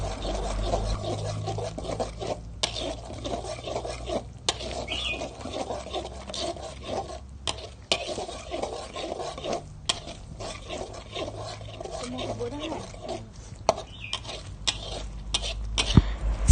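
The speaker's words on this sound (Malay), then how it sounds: "Kemudian kacaukan bahan itu dengan sambal supaya sebati" Ingredients get stirred into sambal in a pan, heard as repeated rough scraping and rubbing strokes of a utensil, close up and uneven in rhythm, with no talking.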